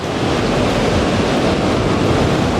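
Rough sea surf at Baga Beach in Goa, a steady loud wash of breaking waves with wind noise and no pause, filling the whole stretch with no voices.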